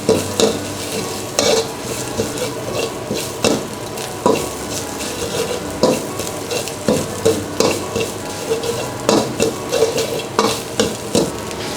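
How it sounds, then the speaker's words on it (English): Thai curry paste for a Tay Po curry (gaeng tepo) sizzles in oil over a low gas flame, with a steady crackle and repeated scraping stirs of the spatula against the pan, close and alone with no talk. "fry with the oil a little bit with a low gas"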